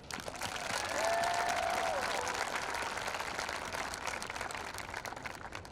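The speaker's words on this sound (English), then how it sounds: "How about another round of applause for Ms. Jensen?" Audience applause fills a high school commencement ceremony for the class of 2021, a steady broadband wash of clapping that swells early and holds for several seconds, with a faint tonal whine or feedback briefly riding above it.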